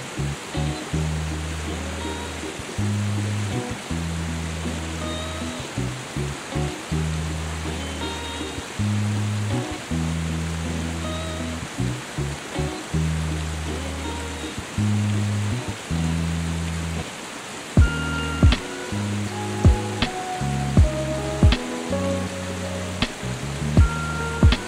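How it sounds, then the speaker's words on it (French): A waterfall outside Kuala Lumpur rushes with a steady broadband hiss, layered beneath rhythmic music with pulsing bass tones and brief bright accents near the end. "je vais aller me baigner dans la cascade"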